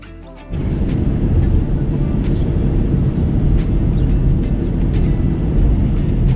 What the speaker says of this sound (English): We are on board in M8 competition, and we are driving in the city.